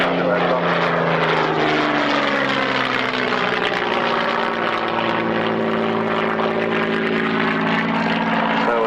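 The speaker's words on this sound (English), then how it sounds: "The Hurricane pulls out and away." A Hawker Hurricane fighter plane at an airshow drones loudly and steadily overhead, its propeller engine sound shifting in pitch as it passes and pulls away, with no talk over it.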